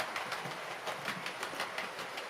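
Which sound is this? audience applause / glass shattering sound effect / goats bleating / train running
train running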